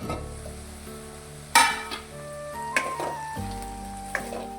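Okra cooks in hot oil with turmeric, ginger-garlic paste in a home kitchen pan, a quiet sizzle with occasional utensil clinks and scrapes as it is stirred.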